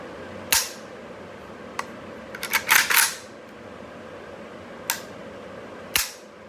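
Trigger of a Century Arms VSKA AK-47 rifle being dry-fired and reset, giving sharp, close metallic clicks. Single snaps are spaced apart, with one quick cluster of clicks in the middle, against quiet room tone.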